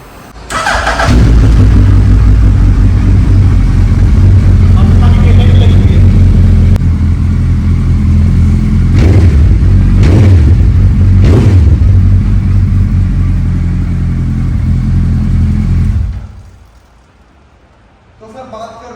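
A BMW S1000RR superbike in mid condition, secondhand, fires up and runs with a loud, steady engine roar and a few sharp revs, close by for about fifteen seconds before cutting off, with people talking over it.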